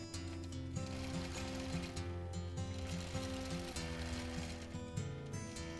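A sewing machine runs continuously through free motion quilting of a quilt, its needle mechanism chattering in a steady rapid rhythm with mechanical whirring, close and even.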